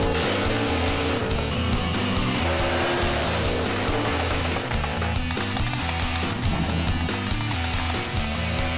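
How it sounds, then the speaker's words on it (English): Drag racing on a street strip, a loud, continuous engine roar fills the whole stretch, with sharp crackling pops over it from a Chevy S10 and a rival running a nitrous-fed 400 cubic inch small block. "You heard the S10 popping, cracking."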